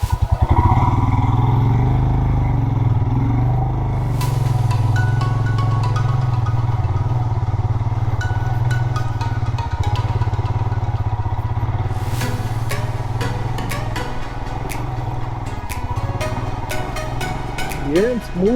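Motorcycle riding an off-road trail in hills near Bengaluru, India: a steady, loud, close engine drone with clattering and rattling over rough ground, while a rider's voice talks over it at times.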